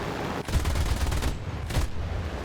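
Two rapid bursts of aircraft machine-gun fire in a War Thunder air dogfight, close and loud over a steady engine drone, a short burst followed by a briefer one.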